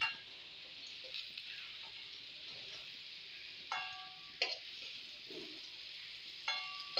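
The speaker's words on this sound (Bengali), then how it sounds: "আলুগুলো যেভাবে ভেজে নিয়েছি সেইভাবেই একটু ফড়া ফড়া করে ভেজে নিই" Jackfruit and potato pieces frying in oil for jackfruit biryani: a low, even crackling sizzle throughout, broken by a few sharp clinks and scrapes of a utensil against the pan, quiet and close with no voices.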